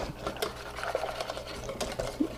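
A whisk stirs a milk pudding mixture in a pot with fast, rhythmic scraping and swishing, close and steady for a couple of seconds with no talking.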